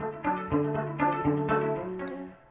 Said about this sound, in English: We also have a smart harmony here.